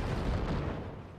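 Cannon fire and explosion in the Forts multiplayer strategy game, a single heavy booming blast with rumbling low-end decay, loud and close, no talk over it.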